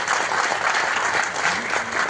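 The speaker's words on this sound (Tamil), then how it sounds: "இந்த நேரத்தில் கருணா சாருக்கு நல்ல மிகப்பெரிய கரகோஷம் கொடுங்க. இந்த அரங்கமே அதுற மாதிரி கொடுங்க." A hall audience applauds Karuna at the audio and trailer launch of the Tamil film Nirvaagam Porupalla, with dense, steady clapping filling the room throughout, no talk over it.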